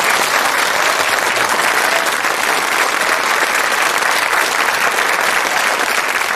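Studio audience on the Countdown game show applauding, a loud, even wash of many hands clapping that holds steady throughout, with no talk over it.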